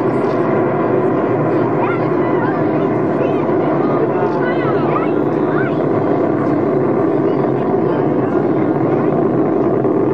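Space shuttle Discovery's three main engines roar during launch, a steady, dense, continuous rumble that holds throughout, with faint talk running underneath.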